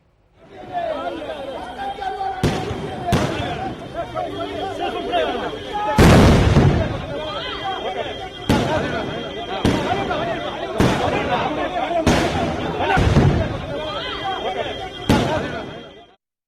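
Firecrackers burst at a welcome reception for a visiting political leader in Thanjavur district, Tamil Nadu: about nine sharp, loud cracks, one of them heavy, spaced irregularly over a steady murmur of crowd chatter.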